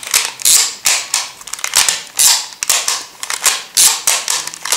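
Mechanical clicking from the film advance crank of an Instamatic camera loaded with 35mm film, a run of sharp, close ratcheting clicks in quick rhythmic bursts that carry on through the whole stretch with no talk.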